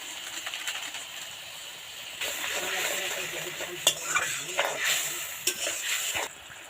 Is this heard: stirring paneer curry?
yes